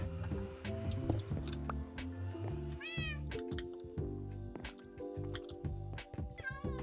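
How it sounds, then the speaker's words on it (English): Several cats meow repeatedly in a video game on a multiplayer Minecraft-style survival server, overlapping calls at varied pitches over steady game ambience, with no talking. "All my cats everywhere."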